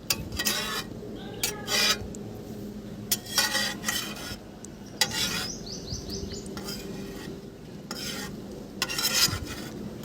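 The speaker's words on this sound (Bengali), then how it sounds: "ভাবছি খুন্তি দিয়ে একটু নাড়াচাড়া করে নিই" A spatula stirs an egg frying in a pan set out on a rooftop under 48° sun. Close bursts of metal scraping and rubbing come and go over a faint sizzle, with no voices.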